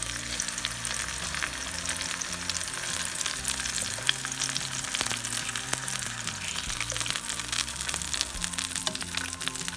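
Dry chiles roasting in hot oil in a pan, a loud continuous sizzle and crackle with occasional stirring, close and steady throughout.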